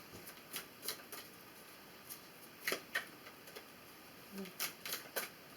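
Tarot cards are shuffled close by in short, crisp bursts of riffling and slapping, scattered over several seconds against a quiet room.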